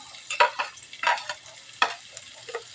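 Onion and garlic frying in a pan while being stirred, with several close, scraping bursts of sizzle and utensil strokes over a soft steady hiss.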